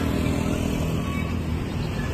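Motorcycle engines droning past on a busy street near the royal palace in Cambodia, a continuous close rumble of traffic with a faint high whine above it.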